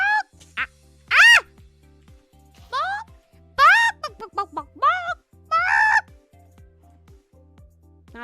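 A young girl imitates a chicken, making a string of high clucking and squawking bursts with pauses between them, close and loud against a quiet background.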